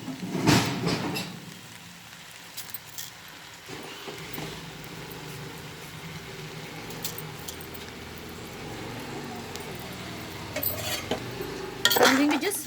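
Rice and dal are stirred together in a pot for vegetable masala khichdi over a low flame. Close clattering spoon scrapes come at the start and near the end, with quieter, softer mixing between them.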